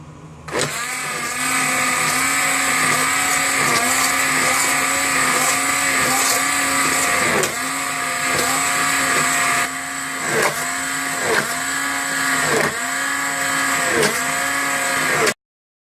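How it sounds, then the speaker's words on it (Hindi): A kitchen grinder grinds spice masala mixed with yogurt for kofta curry, giving a loud, steady, high-pitched motor whine that pulses in short rhythmic cycles and briefly stops midway, then runs again and cuts off abruptly. "अब इस मसाले को आप ग्राइंडर में ग्राइंड कर लें।"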